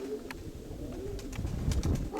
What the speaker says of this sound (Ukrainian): Щось синички цвірінькають